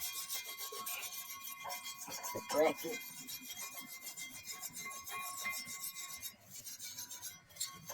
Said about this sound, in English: with the wire brush. Get all that brake dust off of there.